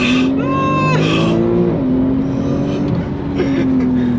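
A powerful car engine roars steadily, its pitch climbing and shifting as it accelerates hard, loud and close throughout.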